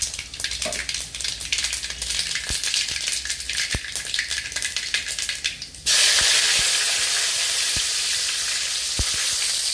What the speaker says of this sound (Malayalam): ഇനി നല്ലെണ്ണ ഒഴിച്ചു കിട്ടാം. കുറച്ച് ഉലുവയും കടുകും